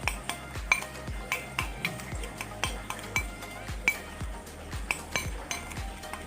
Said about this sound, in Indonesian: Kita aduk dulu bro, ulat sagu kita aduk sama minyak ikan dulu ya teman-teman.